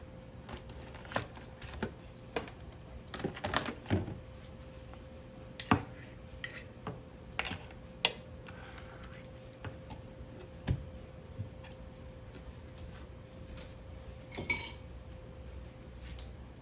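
Kitchen cleanup after cooking braised short ribs: cutlery and pots clink and clatter in scattered, irregular bursts, with a steady low hum underneath and no talking.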